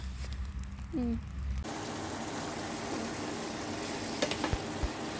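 Fiddlehead fern stir-fried with oyster sauce: after a quieter start, a steady, close, hissing sizzle from the pan fills the rest of the scene, with occasional clinks and stirring sounds.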